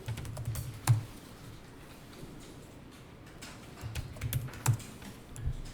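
Someone types on a computer keyboard while entering accounting figures, with a quiet run of soft clicking keystrokes and a couple of sharper, louder key presses like the enter key.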